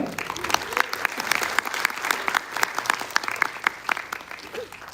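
Loud applause from a large conference crowd fills the space with dense, continuous clapping and sharp individual claps, and faint crowd murmur sits underneath.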